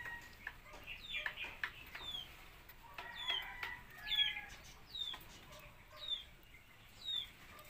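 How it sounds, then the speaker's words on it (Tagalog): A hen in a backyard coop beside her nest of eggs, giving soft clucks and short calls, with other chickens chirping faintly around, quiet and fairly distant. "Yan yung manok ko."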